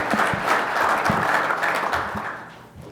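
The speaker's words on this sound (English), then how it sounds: "I want you to give him a round of applause" An audience at a fire department recruit graduation ceremony breaks into a round of applause, dense and fairly loud, holding steady before thinning and fading toward the end.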